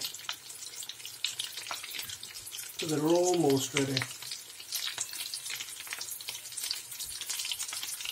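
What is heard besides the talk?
potato chops frying in pan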